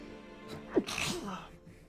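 A single short, fairly faint sneeze bursts out over low background hum.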